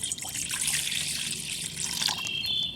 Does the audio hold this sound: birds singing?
no